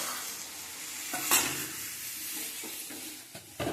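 Hot pan of chicken curry with water being poured in, giving a steady hissing sizzle with a sharp burst of spitting near the middle and a few scraping stirs, no voices.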